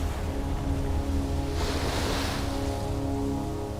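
Ocean waves at high tide along a Fiji coast, a continuous loud roar of surf with a swelling wash midway, steady and close with no voices.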